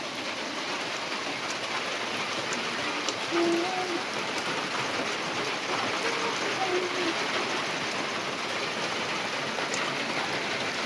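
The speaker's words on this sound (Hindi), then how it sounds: "बारिश तेज़ हो गई है" Heavy rain falling steadily in a village setting, a dense continuous hiss of drops with a faint brief tone near the middle and no talk.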